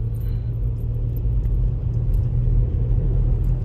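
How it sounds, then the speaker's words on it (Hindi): A car drives along a village road in the evening, its engine a steady, loud low rumble that holds even and close throughout with no talk. "बिट्टू गाड़ी चला रहा है।"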